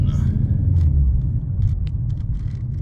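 Deep, continuous V8 exhaust rumble from a 2024 Ford Mustang GT with aftermarket exhaust, low and steady, with faint clicks and rustles over the top.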